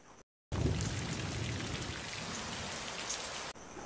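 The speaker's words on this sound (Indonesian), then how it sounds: "Malam pun datang menjelang, dan hujan turun sangat lebat." Heavy rain pours down at night in a dense, steady hiss of drops striking surfaces, loud and continuous, bracketed by brief cuts at the start and end.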